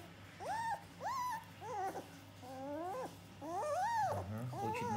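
A 28-day-old German shepherd puppy whimpers in a series of repeated rising and falling whines, close and clear, with short pauses between cries and a low hum beneath.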